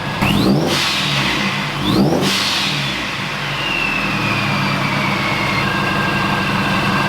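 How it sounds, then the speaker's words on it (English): A Subaru BRZ engine revs up sharply twice in quick succession, then settles into a steady, droning idle close by. "I'm just gonna keep revving it"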